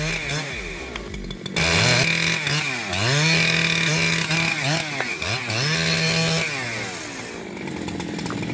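Husqvarna-style 572XP chainsaw felling a tree in a backyard: a loud, continuous snarling drone whose pitch repeatedly dips and rises as the bar works through the wood.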